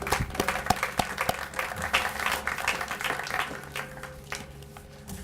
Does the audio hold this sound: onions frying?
no